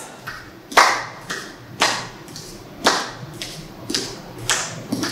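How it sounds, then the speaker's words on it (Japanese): Hand clapping keeps time with dance steps during a choreography lesson for PEACE MAKER: crisp, close claps in a steady rhythm, roughly one per beat, with quicker claps in between and no voices over them. "手拍子が速くなります"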